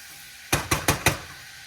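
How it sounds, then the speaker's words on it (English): Four evenly spaced, sharp metallic knocks ring out, a utensil tapping a frying pan of garlic and black pepper, clear and close against near silence. "And you stir, give that a stir, get that garlic mixed in."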